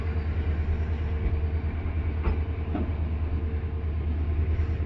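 An empty Tutari Express train stands at a Konkan Railway station on a cold winter morning, giving a steady, loud low rumble with a couple of faint clanks and no voices.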